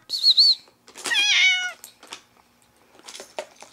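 A cat meows several times in clear, close, high-pitched calls with rising and falling tones, separated by short pauses and soft background noise.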